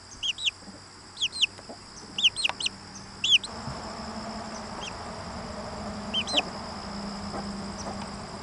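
Several hens cluck and squawk in short bursts, sparse at first, over a low steady background hum that grows slightly louder.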